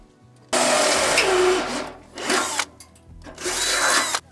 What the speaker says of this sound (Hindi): अब हम इस पे इसको ड्रिल करेंगे।